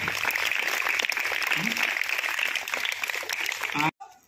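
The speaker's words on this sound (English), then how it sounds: "Very good. Clap." Schoolchildren at a yoga day celebration clap together in a loud, continuous burst that cuts off abruptly near the end, with a little voice audible in the crowd.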